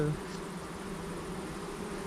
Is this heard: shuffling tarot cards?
no